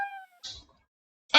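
Game over effect in a Scratch game: a brief meow-like cat tone, then two short breathy bursts separated by silence, close and clear with no talk.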